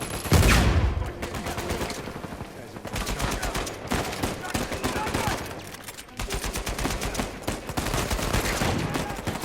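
Gunfire rattles in the Uncharted 4 video game in bursts of rapid machine-gun shots with heavier booming hits, loud and continuous throughout, with voices talking faintly in the mix.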